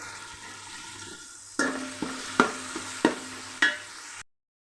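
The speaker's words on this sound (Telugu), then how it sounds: "టమాటాలు కూడా బాగా ఫ్రై అవ్వాలి." Tomatoes frying in a pan with ginger garlic paste for chicken pulao, a steady low sizzle broken by several sharp scraping stirs at regular intervals, close and without talk, ending abruptly in silence.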